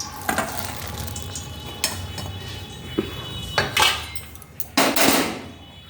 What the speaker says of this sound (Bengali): গ্যাস আস্তে করে দিলাম, এবার ডাল আমি ঢেলে দিলাম